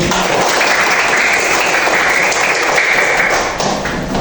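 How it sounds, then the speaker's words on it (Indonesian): A classroom of students claps together at a teacher's prompt, dense steady applause that holds loud and even for the full stretch, with a few sharper taps mixed in. "kita tepuk tangan dulu"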